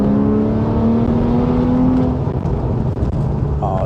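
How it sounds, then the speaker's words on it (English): A Porsche 911 Carrera (991.1) with an Akrapovic titanium slip-on exhaust roars at full throttle, a steady loud exhaust drone rising in pitch, then breaking into rough rumbling as it eases off. "Oh, it's just such a beautiful sounding exhaust."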